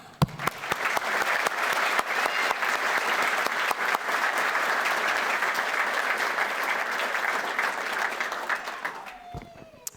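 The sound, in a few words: applause at a recruit graduation ceremony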